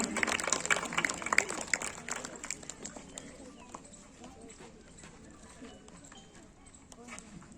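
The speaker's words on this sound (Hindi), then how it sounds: "जोरदार तालियां बजाएं सर के लिए।" A school crowd at a Republic Day celebration claps loudly for a few seconds, then the applause thins and fades to scattered clapping under low background noise.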